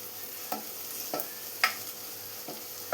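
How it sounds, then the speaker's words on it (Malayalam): Crushed ginger and garlic sauté in a pan for a white chickpea curry, a steady moderate hiss of frying with a handful of sharp spatula clicks spaced through it. "ഇനി ഇത് റോസ് സ്മെല്ല് മാറുന്ന വരെ ഒന്ന് വഴറ്റി കൊടുക്കാം"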